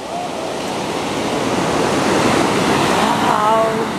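Ocean waves wash steadily onto a beach in Spain after a storm, a loud continuous roar of surf with wind buffeting the microphone throughout.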